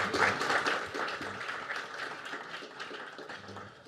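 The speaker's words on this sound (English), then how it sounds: "Round of applause for Andrew." An audience at a CyLab presentation gives a round of applause for the presenter Andrew, a soft, fairly distant patter of clapping that starts strongest and gradually thins out.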